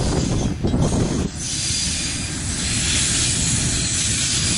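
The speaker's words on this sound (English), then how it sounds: "this freight train's on its way on the Martin New Plymouth railway line" A freight train rolls past on the Marton–New Plymouth railway line, a loud steady rumble of wagons and wheels with hissing noise, close by and continuous throughout.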